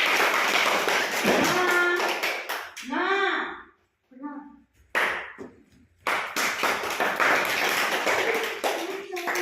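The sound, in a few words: children clapping hands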